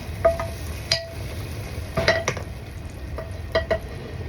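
Sauce is ladled over Gaziantep yuvarlama in a hot pan, setting off a close, bright sizzle with several sharp clinks of a metal ladle against the pan in an irregular rhythm and no talking.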